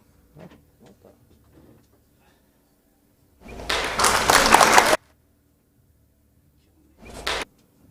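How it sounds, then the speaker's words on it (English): A loud applause burst for Tim Armbruster plays for about a second and a half before cutting off abruptly, followed by a shorter second burst, with faint scattered sounds before it and near silence between. "Let's give him an applause."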